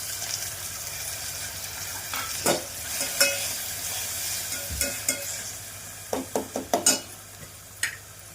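Tomatoes fry in a pan for wheat rava upma, giving a steady close sizzle with a series of sharp clinks and scrapes from stirring, and the taps crowd together near the end.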